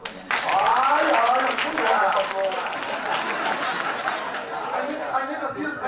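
Audience applause in a hall during a social cohesion civic dialogue, dense, steady clapping that starts abruptly, swells, then thins out, with crowd chatter and some laughter mixed in.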